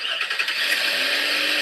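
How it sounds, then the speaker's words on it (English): A car engine starts and settles into a steady, fairly loud idle hum nearby, with no talk over it. "Mel started her car so that we could record the sound of a car starting"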